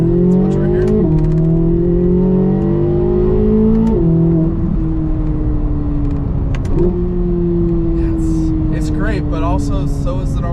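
A 2023 Corvette Z06 accelerating on the road, its engine droning loud and steady from inside the car and rising in pitch through each gear before dropping at the shifts, with talking over it.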